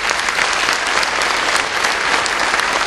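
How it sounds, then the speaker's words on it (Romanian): An audience applauds a singer at an album launch, giving dense, steady clapping close by that fills the short stretch without a break. "Dacă este, vă rog să o aplaudați."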